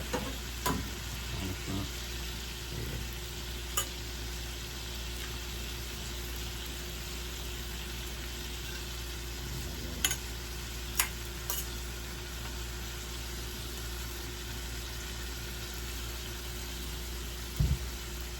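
Food frying in bacon grease, a constant low sizzle and hiss under a steady background hum, with occasional sharp clicks and clatters, and a few brief spoken words near the start.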